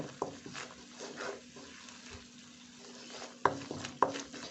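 Thai curry paste for a coconut-milk curry with lotus stems and mackerel simmers quietly in coconut cream in a pot, giving a soft, steady bubbling sizzle, then two sharp utensil clinks near the end.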